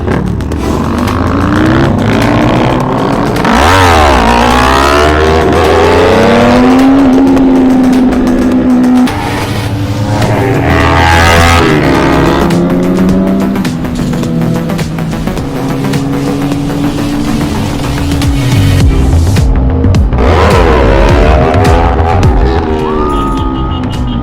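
A Kawasaki ZX6R motorcycle with a loud exhaust revs hard on a night ride, with sharp throttle blips and repeated rising and falling engine howls, loud and close, and no talk.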